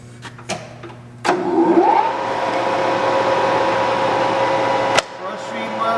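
A Takisawa 14x32 lathe winds up after a couple of clicks and runs steadily at fast speed with a close, even whirring hum, ending in a sharp knock.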